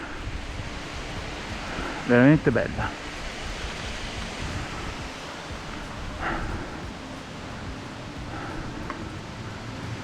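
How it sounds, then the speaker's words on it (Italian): Waterfall on a swollen mountain river near Passo della Collina in the Apennines, heard as a steady, dense rushing roar with light wind buffeting and a brief spoken remark partway through. "Guardate che bella cascata che c'è lì"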